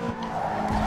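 A Honda Civic's tires skid in the video game Need For Speed Underground 2, a short loud screech over a steady engine drone during a drag race.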